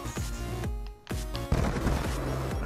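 Rapid machine gun fire in the Call of Duty Black Ops 2 Gun Game mode, quick rhythmic bursts of sharp shots with a brief pause midway, dense and punchy in the game mix.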